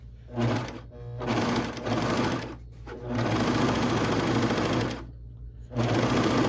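A Bernina Bernette b68 serger stitches a cover hem in bursts of rapid, buzzing, mechanical chatter, the runs separated by short pauses, all close and fairly loud with no talking over it.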